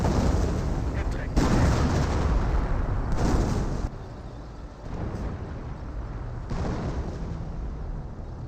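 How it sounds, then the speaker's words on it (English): A creeping artillery barrage in Company of Heroes, a World War II strategy game: continuous rumbling shell impacts and booms with periodic stronger blasts, loud and dense throughout, with no talk over it. "I think that is a creeping barrage"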